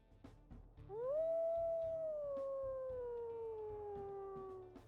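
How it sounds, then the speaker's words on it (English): A female wolf in the video game WolfQuest gives a single long, clear howl that rises quickly, holds high, then slowly falls away, close and alone with faint background ambience. "Let's also listen to her howls."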